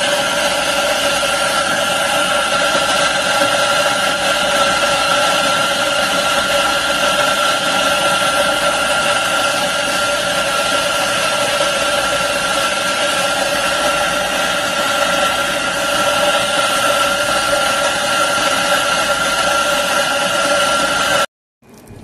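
An electric coffee grinder grinds beans for espresso, a loud steady whirring hum that runs evenly for about twenty seconds before cutting off abruptly, with no talking.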